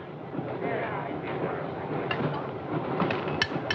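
A train in the 1972 film Horror Express rumbles along the rails with a low, rattling clatter that holds steady, while voices and scattered clanks sit over the noise.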